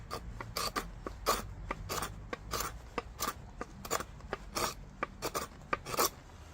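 A tool scrapes out fire-hardened wood to hollow a carved bowl, a rapid, rhythmic series of close, rasping strokes, each a short bright scratch, repeated roughly twice per second with no voices.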